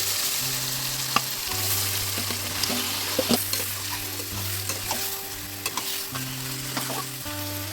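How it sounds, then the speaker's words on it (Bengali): Marinated mutton with garlic paste, cumin and sugar frying in a pan for a light Bengali goat curry, loud continuous sizzling with repeated metal stirring scrapes and clinks, recorded up close. "ম্যারিনেট করে রাখা মাংসটা দিয়ে দিচ্ছি"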